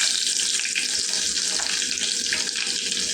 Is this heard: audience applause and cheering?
no